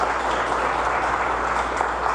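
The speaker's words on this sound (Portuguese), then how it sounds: "Dê uma salva de palmas para Jesus" Congregation in a church service applauding for Jesus, a steady dense wash of many hands clapping at once, loud and continuous with no voices over it.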